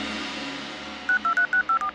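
Six short electronic telephone dialing beeps from a bamboo phone follow a faint hum, evenly spaced and clear, with no talking over them.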